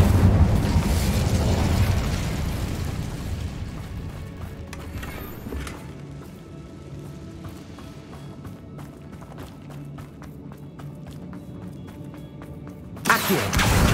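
An Incendio fire spell blasts in the video game Hogwarts Legacy, starting as a loud roaring burst that decays over several seconds into crackling, then a sharp pop near the end.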